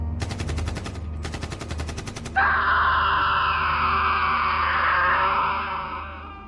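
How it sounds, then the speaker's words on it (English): Two rapid bursts of automatic gunfire, dense and rhythmic, then a loud sustained screaming wail that slowly fades. "I heard the sounds of gunfire, shortly followed by more screaming."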